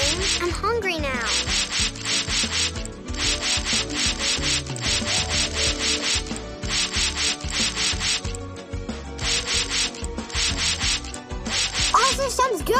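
Vigorous rubbing to scrub away a stain in the Masha and the Bear cartoon, heard as steady rhythmic back-and-forth scraping strokes, loud and close, with a musical bed and cartoon effects underneath.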